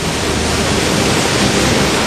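A swollen, overflowing river in the mountains rushes past in flood after heavy rain, a loud, dense and unbroken roar of churning water close by with no voices over it.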